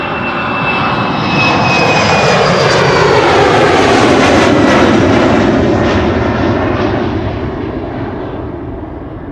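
A KLM Embraer 190 jet roars past at Schiphol Airport, loud and close, with a whining tone early on; the engine noise builds to a peak mid-pass and then gradually fades as the aircraft moves away.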